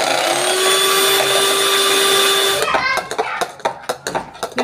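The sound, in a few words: whisking egg whites for sponge cake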